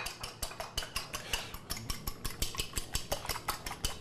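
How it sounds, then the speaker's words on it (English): Eggs whisked with a fork in a bowl for scrambled eggs, a quick steady run of light metallic clinks and taps against the bowl's side, close and clear with no talking. "Blend our eggs. I like to use a fork when I do scrambled eggs."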